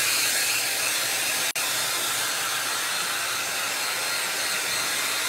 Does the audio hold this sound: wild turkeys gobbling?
no